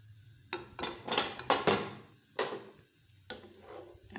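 Soaked sago poured into a pot of milk just coming to the boil, heard as a run of close clinks, taps and scrapes of a spoon against the metal pot in irregular bursts, quiet between strokes.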